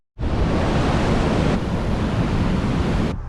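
Ocean waves at Jensen Beach, Florida make a steady, loud, close wash of surf that blends with wind rushing over the microphone and cuts off abruptly at the end.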